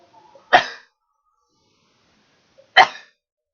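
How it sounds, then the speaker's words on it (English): Two sharp, separate sneezes burst out a couple of seconds apart, each a short loud explosive blast followed by quiet, close to the microphone and with no talking around them. "I gotta sneeze."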